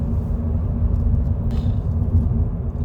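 Low, steady road rumble from inside a moving car, a continuous close drone with no talk over it.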